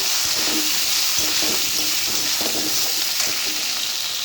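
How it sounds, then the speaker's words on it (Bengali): Steady, loud sizzling of potatoes frying in hot oil, with occasional stirring scrapes and no voices. "আলুটা দিয়ে ভাজা ভাজা করবো।"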